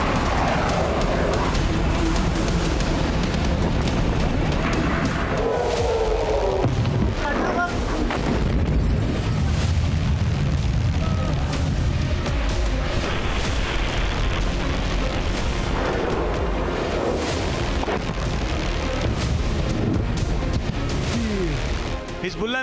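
Hezbollah missile launches roar out in a series of heavy booms and rushing blasts, a dense, sustained rumble with repeated bursts, heard under an overlaid voice that keeps talking throughout.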